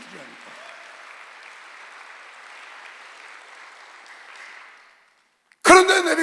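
A church congregation applauding during a Sunday worship service, a sustained wash of many hands clapping at moderate level that fades out, followed by a sudden loud burst of other sound at the end.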